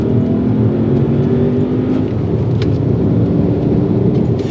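A rare manual-transmission Volkswagen Passat W8 engine runs steadily, a loud, continuous low rumble with a faint whine, close and without speech.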